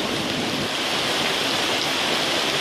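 Heavy squall in Damasi with pouring rain and hail, a dense, steady hiss of drops hitting surfaces that holds loud and unbroken throughout, with no voices.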